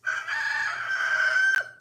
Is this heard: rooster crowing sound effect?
yes